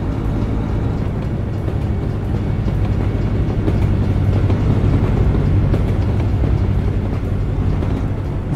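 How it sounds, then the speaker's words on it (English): A train in American Truck Simulator rolls by, its dense low rumble and rail clatter holding loud and steady throughout with no voices. "We're out in the middle of the street just watching the train."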